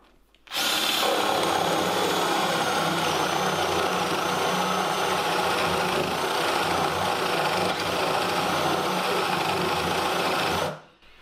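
A Bosch GSB 12V hammer drill-driver, set to drill mode in second gear, bores a 32 mm Forstner bit into wood with a steady, loud motor whine that runs unbroken for about ten seconds before stopping.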